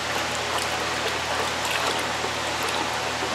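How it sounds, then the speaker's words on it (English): Hydroponic nutrient granules are stirred into water, making a continuous close swishing and trickling wash with no voices. "give it a good stir there for a minute, let it calm down, dissolve, soften up a little bit, then we'll stir it again"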